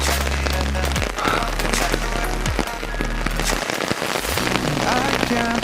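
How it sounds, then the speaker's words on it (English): Heavy rain pours down steadily, a dense continuous wash of drops beating on surfaces, with low droning tones sliding in and out underneath. "Rain's really coming down now."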